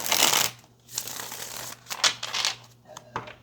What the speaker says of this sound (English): let's get two more good shuffles for Taurus